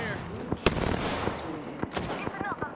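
Apex Legends gunfire: several sharp, close shots crack out in quick irregular bursts over a busy game soundscape of rumble and effects.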